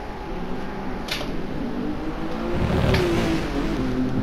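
Lamborghini Diablo GT with a 6-litre V12 roars steadily in GT Sport, a continuous engine drone that swells louder toward the end of a fast lap, with no voices.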